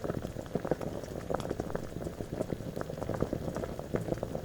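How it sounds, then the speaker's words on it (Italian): Lupini beans boil steadily in water with dense bubbling and popping, close and continuous, with no voices. "Adesso li metto a lessare per circa 30 minuti."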